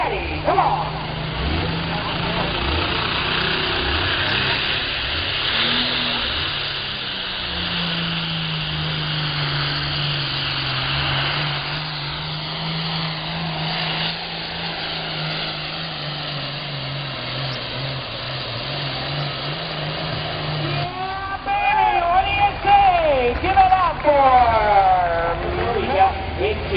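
A John Deere 8410 tractor runs at a county fair tractor pull, its engine a continuous droning roar under an excited announcer calling over a loudspeaker, growing rougher and louder near the end.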